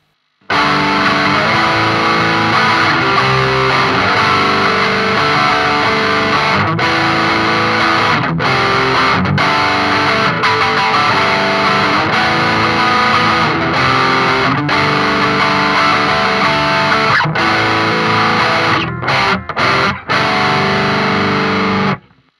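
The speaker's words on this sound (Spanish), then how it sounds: "Perfecto, segundo parlante microfoneado, en el mismo lugar obviamente, sale la segunda reamplificación." Distorted electric guitar re-amped and miked through a second amplifier speaker, playing a continuous loud riff with sustained chords and brief gaps, no voices.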